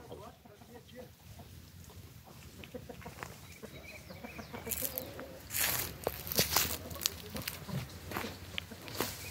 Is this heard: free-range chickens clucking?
yes